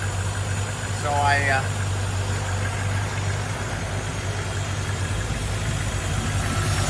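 A 4.2 liter engine idles in a Land Rover 110, a steady low hum running throughout with a brief spoken word near the start.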